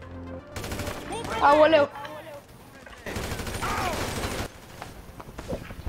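An enemy vehicle in a video game fires its cannon in loud bursts, one around 1 to 2 seconds and another from about 3 to 4 seconds, while players talk and exclaim over them.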